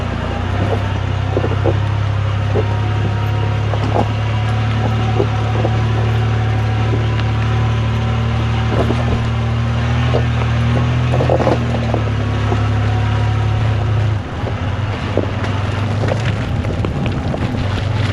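A Chevy truck engine labours steadily out of dry-ish mud, a sustained low drone that dips near the end, with wind buffeting the microphone throughout.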